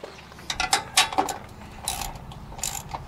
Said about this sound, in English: Now I'll just tighten them up with a socket.